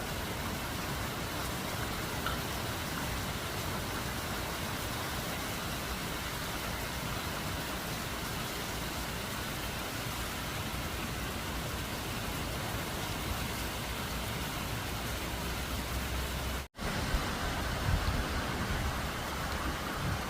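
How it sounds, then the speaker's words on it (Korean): Heavy rain pours steadily onto the ground and flower bed outside a container farm hut, a dense, unbroken hiss lasting throughout with one brief dropout near the end. "어우, 비가 정말 많이 옵니다. 음, 비가 막 쏟아지네요."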